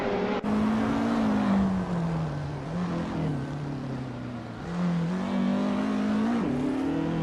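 Jaguar XJ220 engine in a racing video game, a steady loud drone that holds at one pitch, dips slightly and climbs again as it cruises without overtaking.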